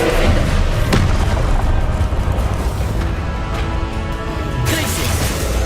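A Confringo explosive spell in Hogwarts Legacy goes off as a loud, deep booming blast with a heavy rumbling tail, followed by a second, lighter burst near the end.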